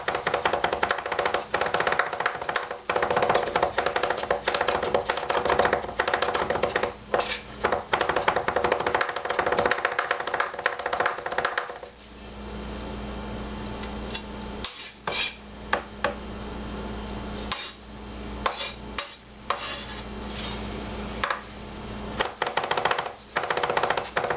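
A knife rapidly minces a smashed garlic clove on a cutting board, producing dense, steady tapping chops up close that continue for the whole stretch with short pauses.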